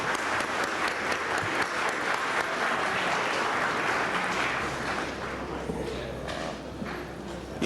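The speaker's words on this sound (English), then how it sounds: "Why don't we give our representatives from the Filipino community another round of applause, please?" An audience in a city council chamber applauds, a sustained wash of clapping from many people that thins toward the end while a low hum and some voices emerge underneath.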